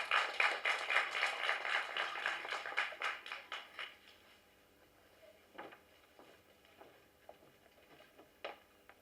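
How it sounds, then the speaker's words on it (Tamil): An audience applauds at the Serpent Pilot movie press meet, a few seconds of brisk, fairly distant clapping that thins out and fades to scattered claps and room noise. "ஸோ ஒரு பலத்த கைத்தட்டல் வந்து கொடுக்கலாம்"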